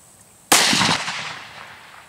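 A single sharp gunshot fired at a target during a bachelorette party outing, one loud close crack followed by a short decaying echo, with no talking.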